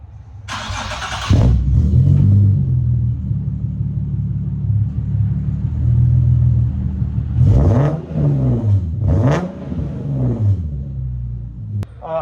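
A Nissan 370Z Nismo with Tomei Y-pipes and a Tomei catback exhaust cranks and fires up, then settles into a loud, deep rumbling idle with a few sharp throttle blips near the end.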